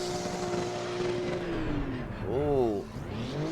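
Gran Turismo 2 car engine revving in-game, a steady droning tone that rises and falls sharply in a quick rev surge around the middle, then settles back to a lower hum, with a voice faintly underneath.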